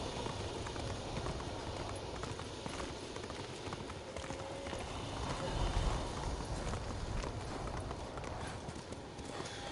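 Horse hooves clop steadily while riding in the video game Ghost of Tsushima, a continuous galloping rhythm at moderate loudness beneath a dense ambient bed, with a brief heavier thud midway.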